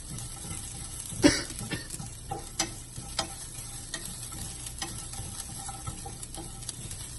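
Frozen grated coconut roasts in a pan with a soft, faint sizzle, and the spatula scrapes and taps against the metal at irregular moments. Nobody talks.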